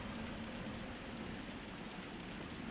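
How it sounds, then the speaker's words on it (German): Steady rain falls in the PlayStation 1 game Grandia, a constant, even hiss of dense drops with no breaks, moderately quiet and heard alone with no voices. "Es regnet, weil der Himmel weint."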